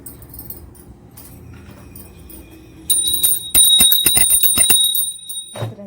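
A hand bell rung during an Ekadashi puja, bright metallic rapid ringing that starts partway through after quiet background sounds and continues loudly for a few seconds before stopping.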